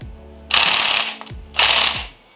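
A ratchet wrench cranks on a stuck bolt of a Mazda MX-5 Miata engine in two rapid clicking runs of about half a second each, close and crisp, separated by a short pause.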